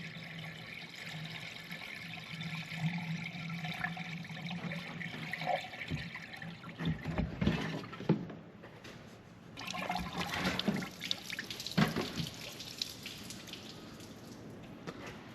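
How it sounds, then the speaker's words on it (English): Antifreeze pours and gurgles into the radiator of an antique Caterpillar RD4 tractor's starting engine close by, in uneven bursts with short pauses between them. "I'm just gonna fill it with antifreeze."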